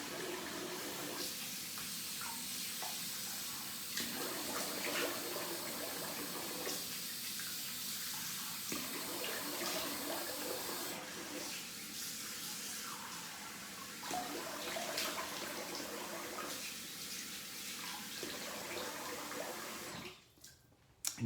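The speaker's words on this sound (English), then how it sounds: "So I'm gonna rinse the face." A tap runs steadily into a sink while someone rinses their face, with the splashing water changing every few seconds as hands cup it. The flow cuts off near the end.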